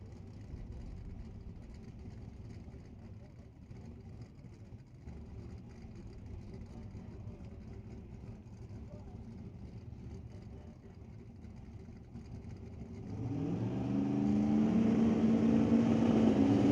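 Drag race cars, a Mustang and an S10, hold a low, rumbling idle at the start line, then one engine revs and the roar swells loudly near the end.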